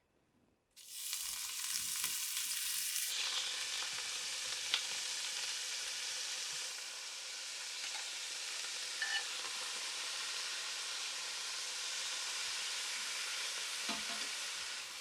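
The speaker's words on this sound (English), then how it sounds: "There might be a little bit of splatter when the broccoli goes in because it's still wet." Wet broccoli hits hot olive oil in a pan, setting off a loud, steady sizzle and crackling splatter that begins abruptly and holds strong for the rest of the time, with a few sharper pops along the way.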